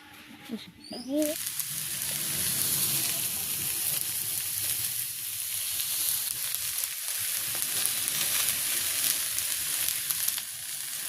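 Potatoes and onion fry in a pan in a winter village kitchen, giving a continuous close crackling sizzle that runs throughout, after a brief voice at the very start.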